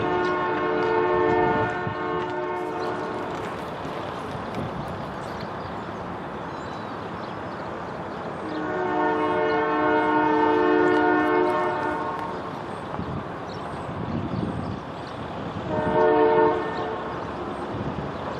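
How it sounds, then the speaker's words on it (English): Camp Chase Railroad interchange train crossing Eureka Avenue west of Columbus, Ohio, sounds its horn in three long, moderately distant blasts over a steady rumble of rolling cars. "That was the Camp Chase Railroad's interchange train crossing Eureka Avenue crossing just south of me"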